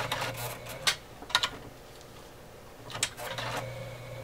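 An OMEGA 307 sewing machine stitches thick fabric slowly while being turned by hand, giving a few separate soft clacks and mechanical rubbing with a low hum underneath, quiet and close.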